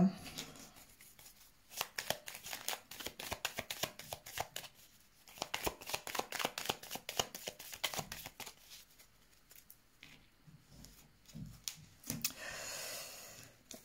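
Tarot cards being shuffled by hand for a reading, a run of quick riffling, flapping bursts in uneven clusters, close and moderately loud, with soft pauses between passes.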